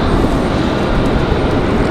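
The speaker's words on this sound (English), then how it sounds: "787 Dreamliner, Air France." An Air France Boeing 787 Dreamliner's jet engines roar loud and close as a broad, steady rumble with no breaks, at night at Raleigh-Durham International Airport.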